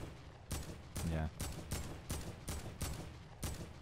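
Rapid bursts of gunfire from a Fortnite Battle Royale match, about seven sharp volleys spaced roughly half a second apart, loud and close, with a brief spoken word in between.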